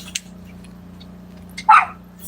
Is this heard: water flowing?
no